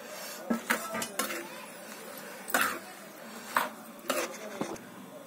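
Mango pieces dropped into a bowl as metal utensils clink against it, a series of light, irregular clinks and taps spread over a few seconds in a quiet kitchen.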